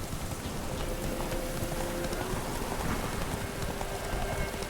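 Roach, the horse in The Witcher 3, clip-clops along at a steady trotting rhythm, the hoofbeats blending into a constant wash of rain-like ambience with no talking.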